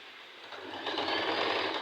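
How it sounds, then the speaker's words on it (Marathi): A sewing machine stitches fabric for a katori front panel, a steady close mechanical whir that picks up speed and grows slightly louder partway through, with no voices. "तर आता शिलाई देत आहे."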